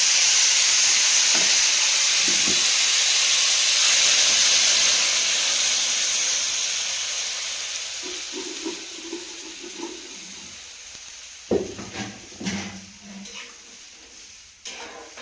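Water poured into a pan of braised fish curry sets off a loud, steady hiss of sizzling and steam that slowly fades, with a few soft clinks and stirs near the end.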